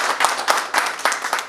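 An audience at an honor ceremony gives brief, steady hand clapping, a short run of evenly spaced claps close by.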